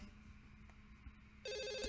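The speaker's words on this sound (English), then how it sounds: "I think, Anna, you do get a phone call that evening from Yara." A phone rings with an incoming call, a steady electronic ringtone tone that starts abruptly partway through after a quiet, hissy background.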